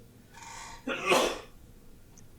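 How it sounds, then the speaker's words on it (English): A single sharp sneeze, close and fairly loud, preceded by a short breathy intake. "I don't know where those sneezes are coming from, but they're really getting annoying"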